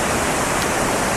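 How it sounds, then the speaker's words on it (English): Steady broadband rush of flowing water, like a stream or small waterfall, continuous and fairly loud with no other sounds over it. "we listen to the sounds of the water for a few moments"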